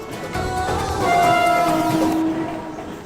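A Mumbai local commuter train rumbles past close by at Goregaon station, its horn sounding in long tones over the steady rolling clatter of the cars.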